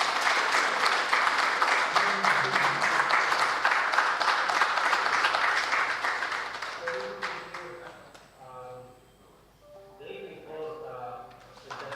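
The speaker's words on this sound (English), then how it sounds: "Can we give him a big applause" A crowd at a competition event claps steadily and fairly loudly, the applause thinning after several seconds as a voice starts speaking over the fading claps.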